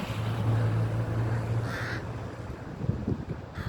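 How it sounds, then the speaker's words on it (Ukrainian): A crow caws once or twice, fairly close, over a constant low hum and hiss of outdoor background noise. "Ось яка ворона. Кар-кар."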